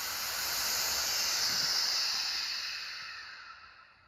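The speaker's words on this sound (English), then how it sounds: "that's the sound of all the air coming back in through this valve" Steady rush of air hissing back in through a vacuum degassing chamber valve, loud at first and gradually tapering off to quiet over a few seconds.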